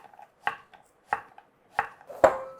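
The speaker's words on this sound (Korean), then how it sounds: "애호박을 이렇게 자르는데, 이렇게 해서 애호박을 7mm 정도 두께 되게" A knife slices zucchini into thick rounds on a cutting board, four crisp chops at an even steady pace, close and distinct, with no voices.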